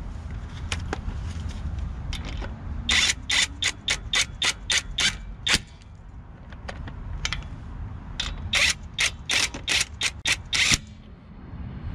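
A cordless impact wrench snugs lug nuts on a car wheel in a star pattern, firing in two quick bursts of sharp rattling hammer blows separated by a brief pause, loud and close with mechanical clicks between.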